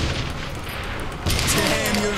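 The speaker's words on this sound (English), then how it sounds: "There we go, that's gonna explode." Explosions and gunfire in Saints Row The Third, a dense, loud burst of blasts and crackling that swells midway, with no clear talk over it.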